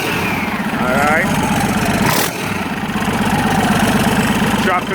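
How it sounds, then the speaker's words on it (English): A rebuilt Mack E7 truck diesel engine runs steadily up close, a continuous rhythmic knocking idle with a brief dip midway, while people talk over it. "Engine rolling."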